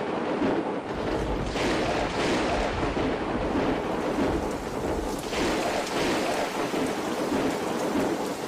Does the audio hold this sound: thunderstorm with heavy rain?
yes